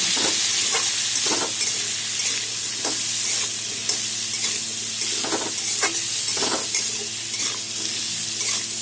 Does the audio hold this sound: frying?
yes